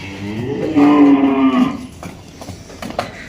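A single deep, drawn-out lowing call from a water buffalo, loud and close, lasting about a second before trailing off into quiet background noise.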